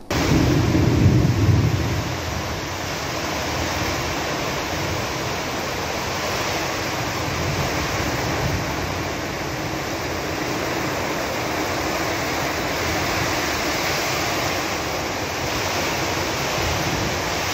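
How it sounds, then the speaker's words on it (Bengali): A strong storm with heavy rain and gusting wind: a dense, steady roar of downpour fills the whole stretch, loud and unbroken, with a heavier rumbling swell in the first couple of seconds. "শুরু হলো প্রবল বেগে ঝড়। বৃষ্টি হতে স্বস্তির নিঃশ্বাস ফেলে সকলেই।"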